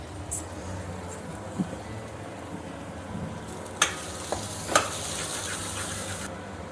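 Tamarind curry with fish is stirred in a pan over a low simmering sizzle, with a few distinct spoon scrapes and clinks against the pan, close by.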